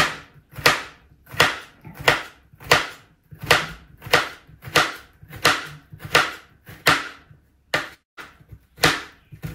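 A knife slicing food into thin pieces on a cutting board, about a dozen crisp, evenly paced chops close up, with no talking.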